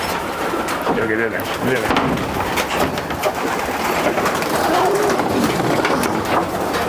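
Racing pigeons in a one-loft race loft coo and flutter in a steady, busy murmur, close by, while someone talks over them throughout.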